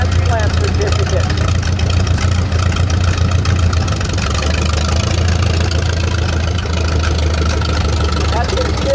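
A 1928 Allis-Chalmers steel-wheeled tractor engine runs in a vintage tractor parade, a steady low throbbing idle close by with a constant hum, with crowd noise and talk around it.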